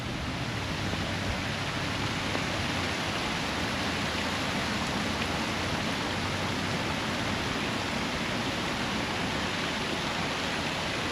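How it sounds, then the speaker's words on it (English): Steady, dense rushing of water over a man-made waterfall, a continuous broadband roar that stays even throughout with no voices. "So here's the top side of your man-made waterfall."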